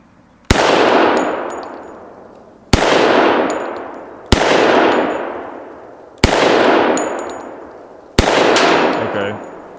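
Five loud gunshots ring out at steady intervals, each striking a propane tank or steel plate target with a sharp metallic clang that rings and decays before the next shot.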